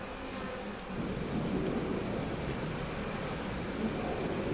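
Native Korean honeybees swarming after a colony split off from a traditionally kept hive, a dense continuous buzz that holds steady and swells slightly after the first second, with no voices.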